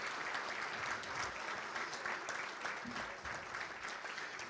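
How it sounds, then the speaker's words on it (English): An audience at a sports Hall of Fame induction ceremony claps in a dense, even round of applause that holds steady throughout, a broad wash of many hands at moderate distance. "Please give all these fine members a large round of applause."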